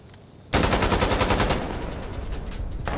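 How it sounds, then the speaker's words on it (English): In the video game Insurgency Sandstorm, a sudden loud blast breaks in and is followed by rapid, sustained automatic gunfire, close and intense, easing slightly but continuing to the end, with no talking. "That was a big explosion."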